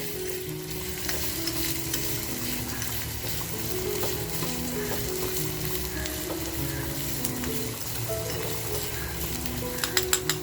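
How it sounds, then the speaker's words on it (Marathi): Green chilies sautéing in hot oil for a tempering for village-style mutton curry, a continuous close sizzle with scraping stirs of a spoon in the pan and a few clinks at the end. "ज्या 2 मिरच्या घेतल्या त्या मिरच्या टाकून घेते. हे बघा आपल्याला खमंग असं हे परतवून घ्यायचंय."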